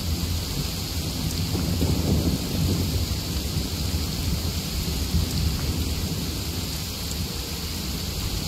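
A thunderstorm in the video game Genshin Impact, with steady heavy rain over the whole stretch and low rumbling thunder swelling in the first few seconds. No one speaks.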